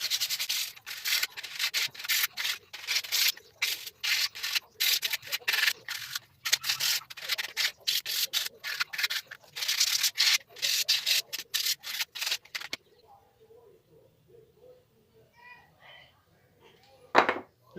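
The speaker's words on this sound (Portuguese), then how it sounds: "Agora eu vou passar uma lixa aqui manual mesmo." Hand sanding of pallet wood with 100-grit sandpaper, a close, rapid series of rough rubbing strokes for about twelve seconds, then near quiet with faint handling sounds and a brief knock at the end.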